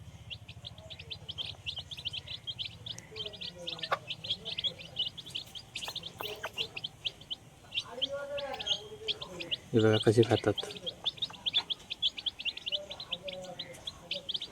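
Country chicken chicks peep and chirp rapidly and continuously while pecking at dried-fish crumbs beside their mother hen, close and lively, with a person speaking briefly over them.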